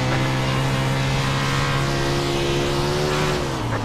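A World of Outlaws sprint car engine in iRacing at Williams Grove Speedway: a loud, continuous roar held on throttle, with the pitch shifting slightly near the end.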